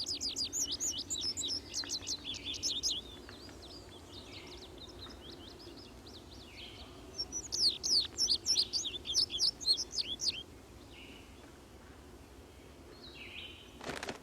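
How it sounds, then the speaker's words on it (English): A bunting sings in an open meadow, bursts of bright, rapid twittering phrases coming in a few spaced bouts over a quiet background hum, moderately distant. "the song of the bunting can be heard in meadows throughout the day."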